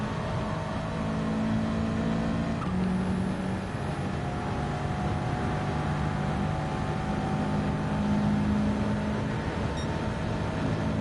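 Race car lapping in Gran Turismo 7 on a worn-out soft tyre at Big Willow, a steady engine drone with rising and falling pitch as it shifts through gears, continuous and alone for the whole lap segment.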